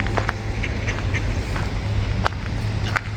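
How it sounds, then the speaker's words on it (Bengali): Ducks quacking at a park pond, a few short calls scattered over steady outdoor background noise with a constant low hum, fairly close and moderately loud, with no voices. "হাঁসগুলো খাবারের জন্য রেডি হয়ে আছে।"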